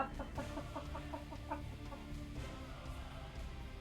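A possessed roast turkey scrambling in the video game Angel Wings Endless Night, voiced as quick repeated clucking and gobbling calls, faint and in a steady rhythm.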